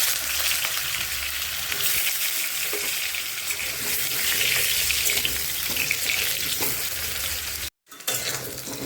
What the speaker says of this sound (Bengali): ঘি দিয়ে আলুটা ভাজা হবে।